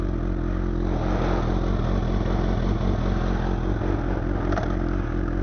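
Motorcycle engine running with its silencer removed, a loud, steady, raw idle with a throbbing low rumble and slight clatter, close by and continuous throughout with no talking.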